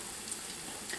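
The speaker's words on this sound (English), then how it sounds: "When you're frying breaded food, it's really, really, really important that you wait until you see the brown forming around the breading." Breaded cornbread fritters frying in a skillet give off a steady, soft hiss of sizzling oil for about a second, close and quiet, with no talking.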